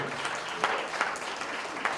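Audience applause at a housing forum, a soft, steady patter of clapping from a distant crowd with a few louder claps standing out, faint and without speech.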